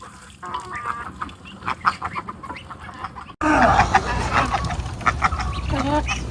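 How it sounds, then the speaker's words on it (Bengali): A flock of hungry ducks quacks and squabbles nearby while being fed, with busy overlapping calls growing louder and more crowded partway through. "হাঁসগুলো এত বেশি বিরক্ত করছিল হয়তোবা ক্ষুধা লেগেছে তাই আগে ওদেরকে একটু খেতে দিচ্ছি"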